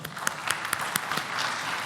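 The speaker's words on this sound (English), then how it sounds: "Let's give them a round of applause, ladies and gentlemen." A conference audience claps for the panelists at an internet peering forum session in Mauritius. The applause is moderate and scattered, with distinct individual claps standing out over a steady patter for about two seconds.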